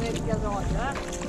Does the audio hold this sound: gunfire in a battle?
no